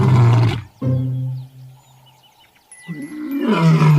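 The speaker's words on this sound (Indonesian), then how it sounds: "Wih, ternyata singa teman-teman." A toy lion lets out a recorded roar, a loud, close electronic growl that swells, trails off into a rumbling middle and then rises again at the end.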